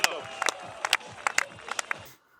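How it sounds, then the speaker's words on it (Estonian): Audience applause and cheering for a third-place finisher at a racing event, a burst of clapping with sharp peaks, fading out after about two seconds. "Hurra, teeme aplausi sellele värgile nüüd."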